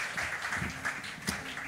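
A church congregation applauds for the Lord during worship, a soft, steady wash of clapping heard for under two seconds, somewhat distant and low in level.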